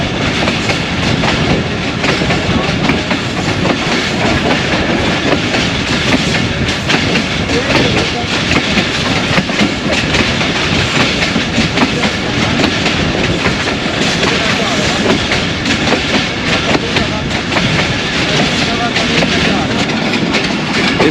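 A passenger train running on the Narowal branch line between Lahore and Narowal gives a loud, steady rumble with continuous clickety-clack of wheels on rails throughout.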